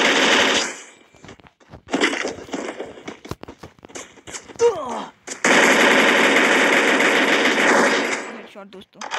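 Rapid gunfire from a shooting video game landing headshots, bursts of automatic fire and single shots in quick succession, close and loud, with short game sounds between.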